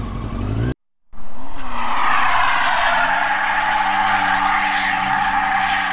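A blue Nissan car roars by with loud, sustained tire skidding and squealing, the engine note wavering over a steady screech after a brief cutout at the start.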